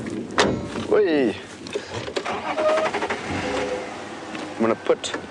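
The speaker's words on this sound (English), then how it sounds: "So I'm just going to start the car." A car engine cranks and catches up close, then idles, with voices talking over it and a cheerful exclamation.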